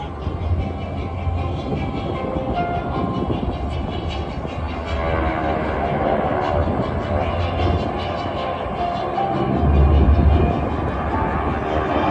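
GEICO Skytypers aircraft fly at the 2020 New York International Airshow, a steady, continuous propeller-engine drone that rises slightly toward the end, with no talk over it.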